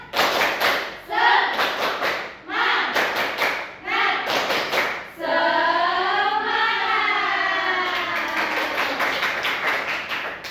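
A classroom group claps out a quick rhythmic pattern in bursts, with a rising and falling siren-like vocal whoop in the middle.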